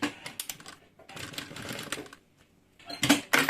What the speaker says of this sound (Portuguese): é só fazer uma costurinha prendendo esse forro